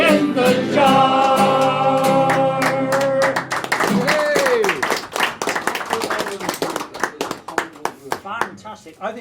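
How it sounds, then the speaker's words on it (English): An audience at a St Patrick's Day folk club session claps in steady time along with a sung folk song, then breaks into louder, denser applause as the singing ends. "I think this is the best crowd of clappers I've ever known"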